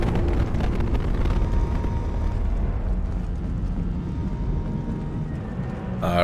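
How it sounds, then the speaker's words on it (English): Big explosions in the video game Mass Effect 2, a continuous loud booming rumble with dense low-end roar that eases slightly midway, heard without talk. "Big explosions."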